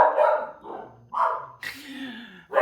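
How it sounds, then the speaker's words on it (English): Pet dogs barking indoors, several loud, close barks in an uneven series, with a whining, yelping tone between them and no talk over them. "I think they're done barking."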